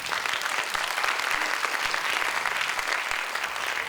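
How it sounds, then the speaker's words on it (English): Audience applause at the SIYSS 2019 science seminar, a steady dense clapping from a crowd that holds at an even loudness for the full few seconds. "Can we give one more applause to Adam Kelly here?"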